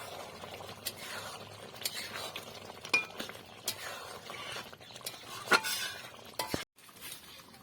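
A spoon stirs meat curry in a pot after garam masala goes in, with scattered faint clinks and scrapes against the metal and a light sizzle underneath, all quiet.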